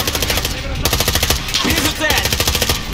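Rapid automatic gunfire from a machine gun in the Call of Duty: Modern Warfare (2020) video game, loud sustained bursts with a steady stuttering rhythm, shouted voices mixed in.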